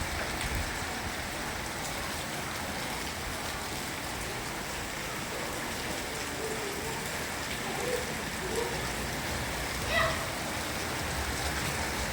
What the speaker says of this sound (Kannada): ಮಳೆ ನೋಡಿ ಎಷ್ಟು ರಭಸವಾಗಿ ಬೀಳ್ತಾ ಇದೆ